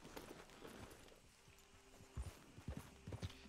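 Horse hooves clip-clop in Red Dead Redemption 2, with a quiet, uneven run of hoofbeats over a low game soundscape and a steady hum.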